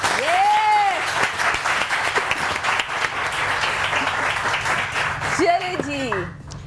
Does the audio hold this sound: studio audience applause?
yes